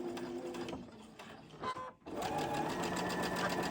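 A sewing machine stitches fabric squares cut on the bias, running in quiet rapid whirring bursts with a brief pause in the middle before resuming steadily.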